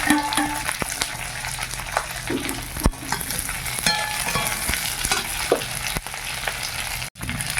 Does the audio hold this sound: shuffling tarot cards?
no